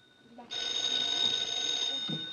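A telephone in a 1950s film scene rings with a steady, shrill electric bell that starts abruptly and holds for about two seconds at moderate loudness, with no talk over it.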